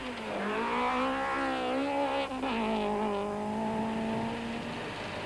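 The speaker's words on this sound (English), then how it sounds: "Hannes drives the Sentra through the final section of stage 4 towards the regroup" A Nissan Sentra rally car is driven hard through the final section of a stage, its engine droning loud and steady. The revs drop and climb again as it shifts, with some tyre noise and no talk.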